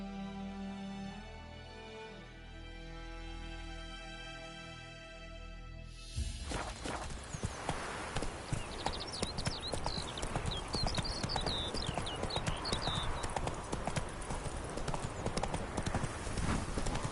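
Roach the horse's hooves clip-clop steadily in The Witcher 3, a dense run of close, even hoofbeats starting after a quieter musical opening and continuing to the end.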